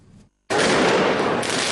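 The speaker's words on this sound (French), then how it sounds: "Les manifestants pro-Morsi ont jeté des pétards et des pierres sur les policiers" Firecrackers thrown by pro-Morsi protesters at police during street clashes in Cairo, heard as a sudden loud, dense crackling burst that starts after a brief near-silence and rages continuously without let-up.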